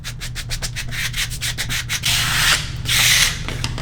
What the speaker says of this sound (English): Come through, squeegee it again.